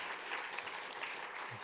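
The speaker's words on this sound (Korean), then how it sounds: "우리 옆에 분에게 박수와 응원과 축복과 사랑의 박수." A church congregation at a Sunday morning service claps together, a brief steady patter of applause at moderate distance.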